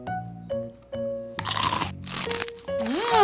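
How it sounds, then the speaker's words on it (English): Crisp crunches of an apple being bitten and chewed in an animated fairy-tale story, several loud crunchy bursts between tonal voice-like cartoon sounds. "she saw a deer munching on an apple"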